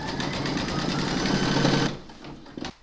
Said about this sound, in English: Pop your hoop into your machine and stitch round number 7 to attach it.